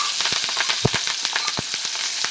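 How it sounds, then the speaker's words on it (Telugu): Green chillies and curry leaves fry with mustard seeds and turmeric in hot oil in a pan, giving a steady close sizzle with sharp popping crackles scattered throughout. "కొంచెం ఫ్రై చేసుకోవాలి."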